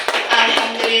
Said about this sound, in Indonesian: Beri tepuk tangan yang meriah sekali lagi.